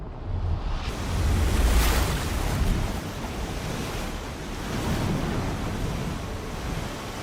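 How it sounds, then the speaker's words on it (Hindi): Fast-flowing floodwater rushes steadily near a bridge pillar, a loud, continuous roar that swells and eases, mixed with wind buffeting, with no voices. "पानी का बहाव तेज है"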